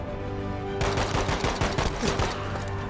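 Gunfire rattles in the Battlefield V video game, a rapid close burst of repeated automatic shots that starts abruptly and continues for a couple of seconds.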